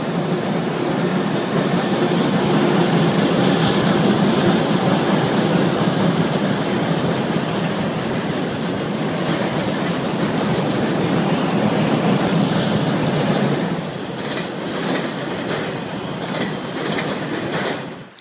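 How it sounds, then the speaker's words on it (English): A train rolls past close by at Harpers Ferry, West Virginia, a loud sustained rumble with rhythmic clatter of wheels on track, easing slightly toward the end. "Here's another train coming in."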